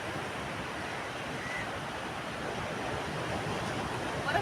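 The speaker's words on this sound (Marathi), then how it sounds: "मोठी लाट छान फुटताना दिसते" Large ocean waves break on the shore in a continuous, broad wash of surf with steady roar and some wind noise, no talking.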